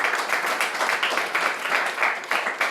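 A church congregation claps together in sustained, steady applause throughout, a dense wash of many hands with no talk over it.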